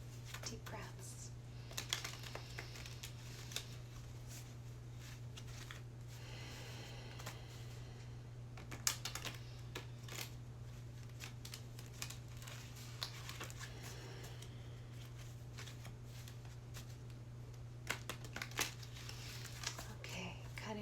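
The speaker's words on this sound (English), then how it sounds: "Okay, cutting the deck." A tarot deck is shuffled and cut by hand, giving soft, quiet, irregular card riffles and taps under a steady low electrical hum, up close in a calm room.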